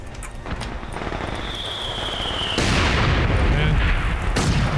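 Grenade exploding during a 4v4 match of a Battlefield-style war game in a forest map, a loud booming blast followed by rumbling roar, amid a busy background of distant gunfire and battle noise.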